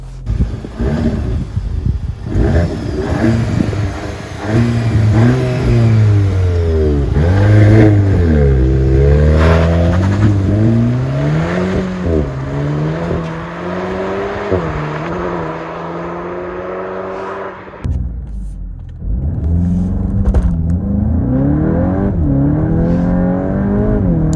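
A VW Golf 8 GTI Clubsport engine under way on the road, its loud note climbing and falling repeatedly as it accelerates through the gears, with a sharp break and fresh pull near the end, and no talking.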